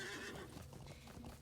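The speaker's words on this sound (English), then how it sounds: "we're going to get on our horse and go find Dino Das" A horse in the online game Lord of the Rings Online whinnies loudly, then its hooves clip-clop in a quick steady rhythm as it sets off, with no talk.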